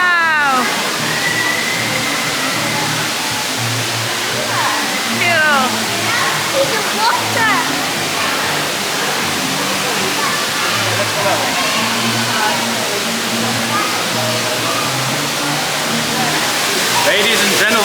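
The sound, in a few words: indoor waterfall at Center Parcs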